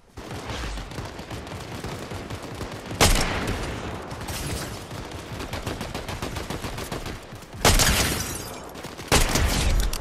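Gunfire in Fortnite sounds in rapid bursts throughout, with louder sharp volleys breaking out near the three-, eight- and nine-second marks over continuous gameplay noise.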